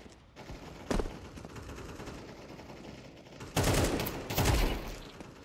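Gunfire from Counter-Strike 2 rings out in sharp bursts: a single loud shot near the start, then two heavier clusters of rapid shots close together later on, over a low, steady game background.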